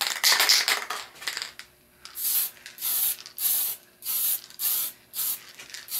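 An aerosol can sprays dull coat onto small Airfix miniatures in repeated short bursts of hiss, about six even blasts separated by brief pauses, close and fairly loud, with no talk.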